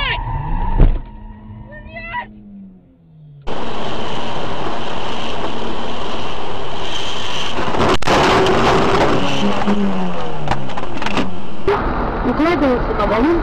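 A car accelerates hard, its loud, dense roar starting abruptly after a few seconds of quieter cabin sound and shouted voices, then holding steady close by until near the end.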